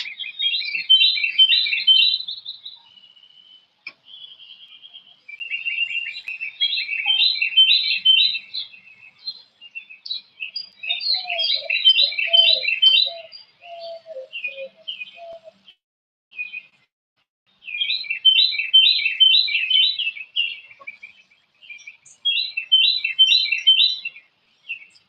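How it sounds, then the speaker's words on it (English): Several bursts of bright, high-pitched birdsong with quick trilling phrases, separated by short quiet gaps, close and clear with no other sounds. "Hear the birds? They're beautiful, aren't they? They've got such a beautiful melody."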